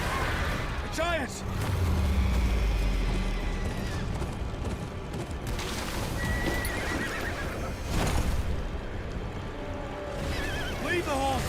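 Horses whinny and neigh in a Game of Thrones action-adventure video game, with hooves clip-clopping beneath loud battle ambience and rumbling effects, and several whinnies rising over the din.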